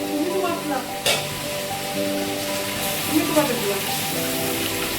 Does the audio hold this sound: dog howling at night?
no